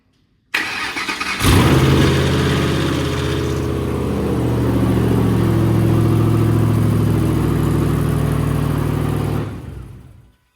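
A used Ford Mustang, smoking, makes a cold start: a brief crank catches into a loud, rough engine that revs, then settles into a steady close idle before cutting off.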